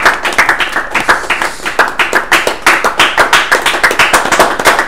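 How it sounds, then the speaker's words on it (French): A live audience at a church gospel event claps loudly in a steady, rhythmic unison beat, crisp and close, repeating evenly for several seconds. "Si on peut l'applaudir quand même, le public."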